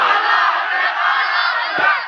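A large crowd shouts a slogan in unison at a religious gathering, a loud, sustained massed roar of voices that carries on for about two seconds with only slight dips.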